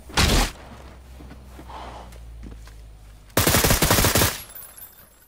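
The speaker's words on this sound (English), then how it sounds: "Somebody was shooting over here." Two loud bursts of automatic gunfire ring out in the PUBG battle royale shooter on Xbox, roughly three seconds apart, each a rapid rattle of shots over a quiet ambient hum.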